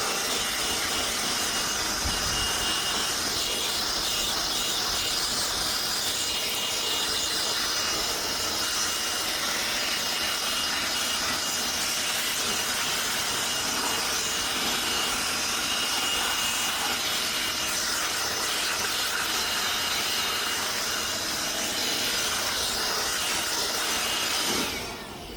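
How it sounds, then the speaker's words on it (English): A blower forcing sand out of a Carrier package air conditioning unit that is not cooling, heard as a steady loud rushing hiss that holds evenly for the whole stretch and then cuts off at the end. "I'm gonna take the blower real quick."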